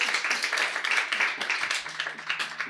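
A congregation claps steadily together in worship to acclaim the Lord, a fast, even rhythm of many hands over a low constant hum.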